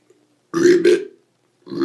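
A person lets out a loud, close, guttural burp in two rough bursts, followed by silence and the start of another burp.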